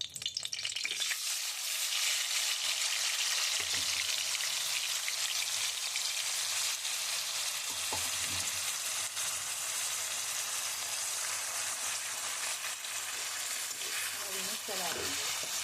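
Grated carrots for gajar ka halwa fry in a pan with a constant close sizzle and occasional stirring scrapes, while a voice talks faintly now and then.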